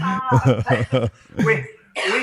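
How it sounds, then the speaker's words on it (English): A woman coughs a few times in quick succession during a church podcast, close and clear, followed by a throat clearing and a brief breathy sound. "I'll talk while she coughs for a second"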